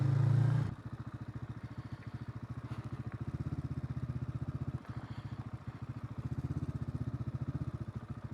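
A motorcycle engine idling and running with a steady low, pulsing putter, close and continuous after a brief louder opening.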